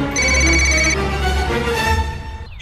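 A mobile phone rings loudly and close by with a steady electronic ringtone of sustained tones that continues throughout.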